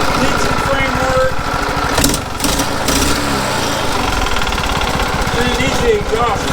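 A small mini bike engine runs steadily close by, a buzzing, pulsing idle with a brief dip near the middle, while people talk over it.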